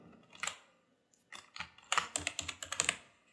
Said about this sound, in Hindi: और एंटर प्रेस कर देता हूँ।